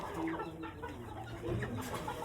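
Hens for sale, kept near partridges, cluck in a few soft calls over a steady bed of background noise, close and fairly quiet, with no voices.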